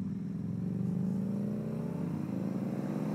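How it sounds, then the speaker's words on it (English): Exhaust note of a 2021 BMW R nineT Urban GS 40 Years boxer twin running through Akrapovic cans, a steady, loud, close rumbling idle with a slight rise in pitch. "exhaust note, I think so anyway, through the Akropovic cans"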